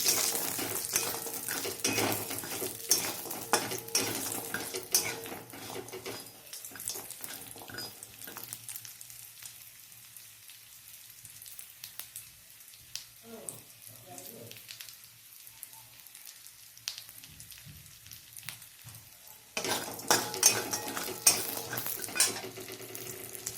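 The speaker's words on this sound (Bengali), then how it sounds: "বড়িগুলো ভালো করে ভেজে নিলাম এইভাবে লাল লাল করে একটু" Bori lentil dumplings fry in hot oil in a pan, a steady crackling sizzle with scraping stirs and metal clinks, quieter in the middle before the frying noise swells up again loudly near the end.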